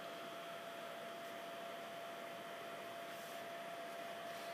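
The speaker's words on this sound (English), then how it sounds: "my kit came with a heater" Small electric heater for softening nail wraps runs with a steady, even whirring hiss and a faint constant hum, close and unbroken throughout.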